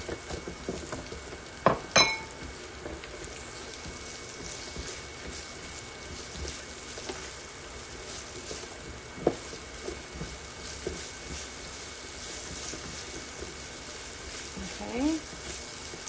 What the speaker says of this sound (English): add a little bit more oil, and we're going to quickly saute our onions